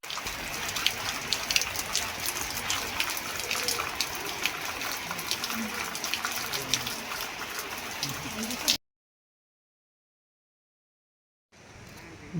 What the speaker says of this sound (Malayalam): ഫുള്ള് മഴ